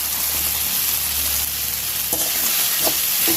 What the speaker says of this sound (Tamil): இப்போ ஃப்ரை பண்ண கருவாடு சேர்த்துக்கலாம்.